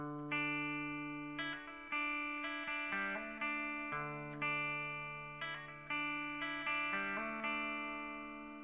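Electric guitar plays the intro riffs of a song, a repeating pattern of picked notes, hammer-ons and ringing open strings in steady phrases, clean and sustained with no talking.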